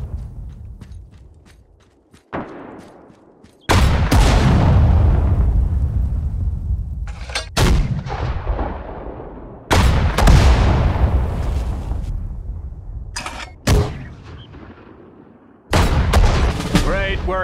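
Heavy US Army artillery firing on a target in a World War II-style video game, a series of loud booming blasts a few seconds apart, each with a long rumbling decay, while voices talk between the shots.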